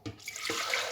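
Water from two cups pours into a blender jar in one steady, close splashing gush that lasts about a second.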